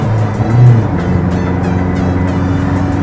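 A Toyota Revo 2.4 pickup engine in power mode, a steady close-up drone of the motor pulling under acceleration inside the cab, with a slight swell early on.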